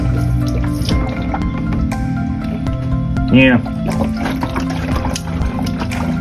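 Water trickles and drips out of a removed Ford F150 headlight in small gurgling spurts, close up, while someone talks over it.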